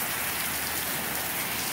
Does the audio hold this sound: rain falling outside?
yes